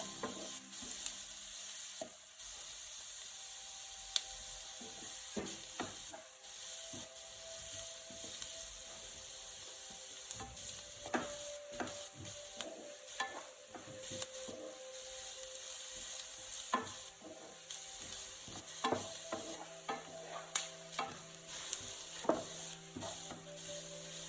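Chicken steak ingredients fry in a pan with a steady, soft sizzle. Scattered sharp clicks and scraping taps break in throughout, and no one speaks.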